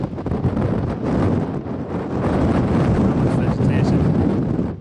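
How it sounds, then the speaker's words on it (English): Strong wind buffets the microphone on a rocky mountain summit around 8,600 feet in the Guadalupe Mountains, a steady loud roaring rush that continues for the whole stretch with no break. "It's windier up here."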